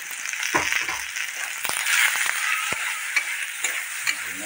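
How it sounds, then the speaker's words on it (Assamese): Potatoes seasoned with salt and chili powder fry in a hot pan in a home kitchen, giving a soft, constant sizzle broken by several sharp scrapes and clacks as a spatula stirs them. "আলুখিনি এতিয়া ভালকে ভাজি ল'ম ৰব গোটেই মাংসৰ আঞ্জাৰ দৰে"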